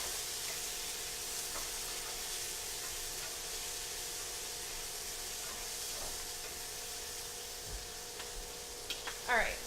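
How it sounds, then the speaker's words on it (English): Green beans sizzle in a hot pan as they are stirred for a green bean salad, a steady broadband hiss throughout with a few faint scrapes and small clatters near the end. "I'm going to stir these green beans."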